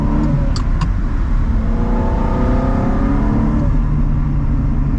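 A manual-transmission car eases away from a stop on the clutch alone, with no added throttle, its engine holding a steady low hum that rises gently in pitch as it creeps forward, close and continuous throughout.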